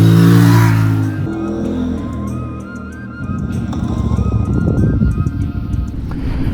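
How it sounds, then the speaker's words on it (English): A CF Moto 450 MT adventure motorcycle ridden on mountain roads gives a loud, close engine drone that dips as it eases off, then returns as a steady rough rumble with wind noise, with no talking. "we're going to ride some of Cebu's best mountain roads"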